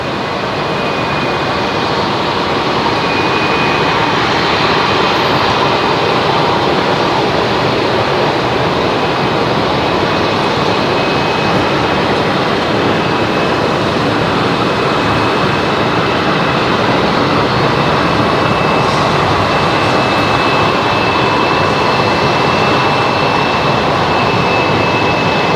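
A jet airliner roars loud and continuous at Brisbane Airport, a steady broadband rumble and whine filling the whole stretch with no pauses.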